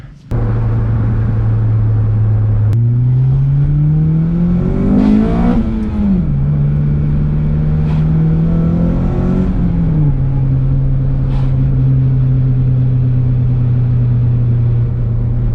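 An Acura TSX with a Fastline Performance 3-inch single exit exhaust and resonator idles with a deep exhaust burble, then revs up twice in rising, rumbling pulls before dropping back to a steady idle.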